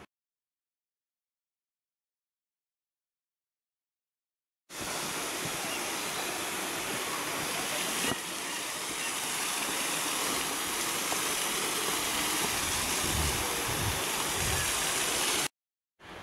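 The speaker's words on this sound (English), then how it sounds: "The sound of water falling in the valley below." Steady rushing water, like a waterfall far below in a Blue Mountains valley near Katoomba Falls, a continuous full roar after a few seconds of silence, with no voices.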